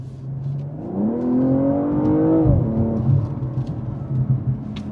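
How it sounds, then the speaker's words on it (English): A BMW M240i xDrive engine revs up with a rising drone, then drops back as the exhaust gives off crackling artificial burbles and pops, loud and close from inside the car. "Hear the fake burbles?"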